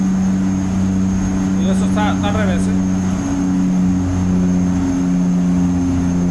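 A Kenworth T600 truck in a truck-driving game holds a steady, droning engine roar at full throttle, loud and continuous throughout, while someone speaks briefly over it.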